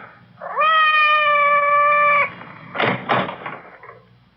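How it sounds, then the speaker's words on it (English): Cat meowing outside a door as a radio drama effect: one long, loud, drawn-out meow, then a few dull knock-like thumps against the door. "It sounded like Madame's cat, Francois."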